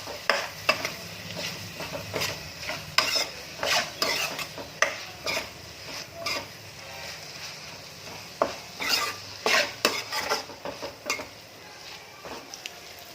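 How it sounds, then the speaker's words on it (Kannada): Ginger-garlic paste and turmeric get stirred in a pan for egg fried rice, with repeated close scrapes and clinks of a utensil against metal over a soft sizzle, no talk. "ಇದನ್ನೆಲ್ಲ ಚೆನ್ನಾಗಿ ಮಿಕ್ಸ್ ಆಗೋಕ್ಕೆ ಮಾಡ್ಕೊತಾ ಇದ್ದೀನಿ"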